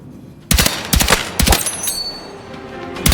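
DRS-IAR rifle fires in a video game in short bursts of loud, sharp shots, two or three rounds at a time with brief pauses between, then a trailing ring.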